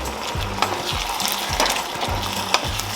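Mushroom risotto rice sizzling steadily in a hot pan while alcohol cooks off, with a few sharp stirring clicks of a utensil against the pan over continuous frying hiss; no one speaks.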